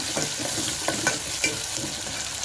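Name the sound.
stirring frying onions and chilies with a spoon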